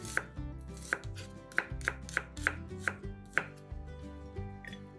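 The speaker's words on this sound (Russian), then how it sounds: "Лук разрезаем пополам и нарезаем полукольцами." Knife slicing a halved onion into half rings on a cutting board: a series of sharp, regular chops, close-up, over soft background music with no speech.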